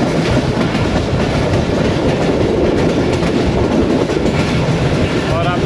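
The 102dn Subak Raftar passenger train runs on rails between Gujrat and Lahore, heard from inside an AC standard coach as a loud, continuous rumble and clatter of wheels without pause.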